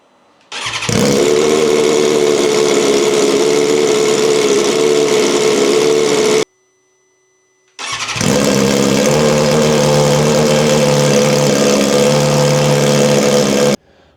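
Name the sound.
motorcycle engine running with exhaust valve eliminator fitted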